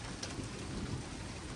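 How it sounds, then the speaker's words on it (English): Heavy rain pounding down during a severe thunderstorm, a dense, even hiss of large drops with low rumbling underneath, steady throughout. "here comes more rain"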